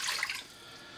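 Water pours briefly into a 250 ml glass in a kitchen while preparing kimchi, a short splashing trickle that fades within half a second to quiet background.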